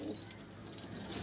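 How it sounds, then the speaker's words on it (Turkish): A young pigeon gives a thin, high, sustained peeping call, nearly continuous with a brief break, close and clear with no talking. "Kuş burada."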